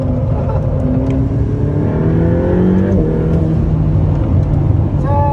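A Ferrari F8 Spyder accelerates on a race circuit, its engine note loud and continuous, climbing in pitch through the gears with a shift partway through, heard from inside the car.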